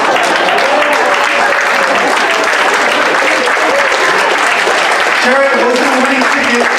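A crowd applauds loudly and continuously at a live comedy show, a dense wash of clapping with faint voices rising near the end.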